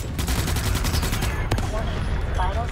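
Rapid video game gunfire from a shooter battling arachnid threats, a dense burst of shots running nearly the whole time, loud and close, with a short break midway and a voice faintly under it.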